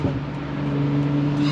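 Steady bassy hum of a chip-tuned car's exhaust in sport mode, a low even drone at moderate level with no talking and no distinct pops standing out.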